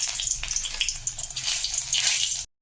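Garlic and onion frying in oil as a tempering, making a close, bright, crackling sizzle with small spattering pops that continues steadily for a couple of seconds, then cuts off abruptly.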